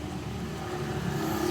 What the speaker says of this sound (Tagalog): Ganda rin tunog ng motor mo ngayon